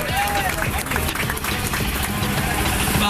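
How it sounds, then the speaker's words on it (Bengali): Group applause on a boat picnic, many hands clapping close by, dense and sustained for the whole moment. "সবাই জোরে তালি হবে।"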